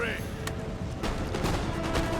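Horse artillery firing in Empire: Total War, a few sharp distant cannon booms and scattered gunfire across a noisy battlefield, with a voice speaking.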